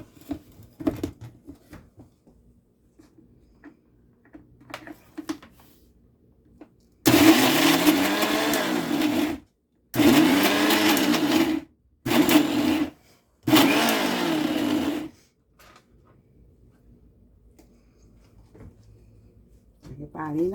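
Mixer grinder blending an avocado paratha filling with sour cream, running loud in several bursts of a few seconds each with brief pauses between, with quieter kitchen handling noises before and after.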